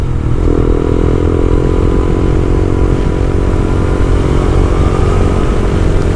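A beginner motorcycle engine runs steadily and loudly while being ridden, a constant mid-pitched drone with a rattling clatter throughout and no speech.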